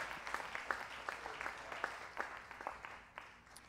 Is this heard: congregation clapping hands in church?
yes